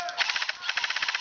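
Airsoft guns fire in an outdoor skirmish in West Virginia, rapid sharp clicking shots in quick bursts with a short pause, loud and close, with voices faint in the background.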